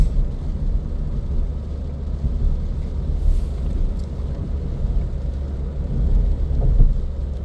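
Rain falls steadily as a dense, low wash of sound. The hiss holds even throughout and thickens slightly toward the end, with no voices.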